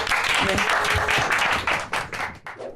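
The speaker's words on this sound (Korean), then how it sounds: "박수로 우리 보내드리겠습니다" Audience applause at a Korean talk show on nuclear phase-out, sending off the guests, a dense steady patter of clapping that thins toward the end, with voices speaking over it.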